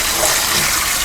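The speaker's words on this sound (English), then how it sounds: "I'm gonna run it on here with water in it to clean it" Running water rinsing out a Cosori Pro blender, a steady close rushing wash that fills the moment without pause or talk.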